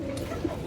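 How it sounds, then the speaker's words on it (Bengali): A single short, low pigeon coo rises from a pigeon farm, close and soft against a murmuring background. "একবার আনার চোখের কবুতর, আনার চোখের কবুতর"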